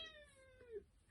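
A shy pet cat gives a single faint, drawn-out meow indoors in a quiet room. The meow is brief and slides downward in pitch, and no voices are heard.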